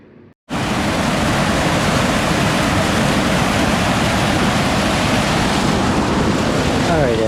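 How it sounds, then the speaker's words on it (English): A waterfall in a local park gives a loud, steady rushing roar that starts abruptly after a brief quiet moment and then holds at an even level throughout, close by. "the beautiful waterfall behind me"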